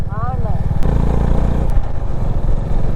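A motorcycle rides along a road, its engine a loud close drone with a steady pulsing beat that keeps running under nearby people talking.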